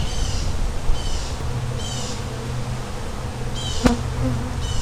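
Honey bees hum steadily around the frames of a nuc hive, a dense close drone with a few louder buzzes passing near and one sharp knock, with no talking.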